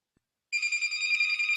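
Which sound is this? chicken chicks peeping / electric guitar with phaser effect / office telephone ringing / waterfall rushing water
office telephone ringing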